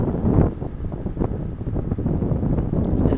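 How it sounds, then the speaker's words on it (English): Strong wind buffets the microphone in a low, roaring rumble with gusty surges, loud and continuous throughout. "it's really windy."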